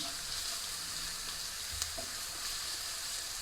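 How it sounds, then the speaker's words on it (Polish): Chopped onion frying in a pan and being stirred: a steady, loud sizzle fills the whole stretch, with a soft scrape of the stirring utensil partway through and no voices. "Wszystko razem przemieszamy i dosłownie niezbyt długo do momentu, jak nam się cebulka zeszkli."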